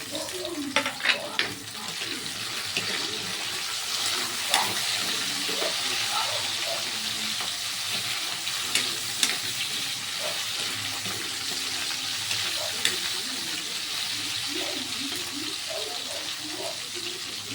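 Crab fat (tugue) and tomato sauté in a pan with a steady, fairly loud sizzle and hiss, dotted with small pops and clicks of stirring throughout.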